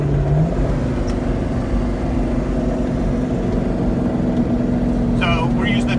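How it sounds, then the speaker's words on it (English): A Jeep JK fitted with an LS engine cruises on the freeway, its engine humming steadily with a low droning tone and road noise, a gear shift changing the pitch near the start. "driving on the freeway."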